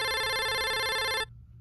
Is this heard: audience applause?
no